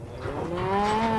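A single drawn-out moo from cattle on a working ranch, rising and sustained for about a second, close and clear with no voices.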